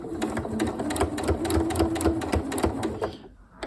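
A sewing machine back stitches a ghostly-themed cushion in a steady, rapid mechanical chatter, nearby and even, stopping abruptly near the end.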